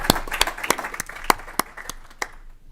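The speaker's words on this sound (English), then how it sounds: "let's give them all another round of applause" Brief, sparse applause from a small audience at a state House agriculture committee hearing, a handful of distinct claps ringing out near and unevenly before fading away, with no talking.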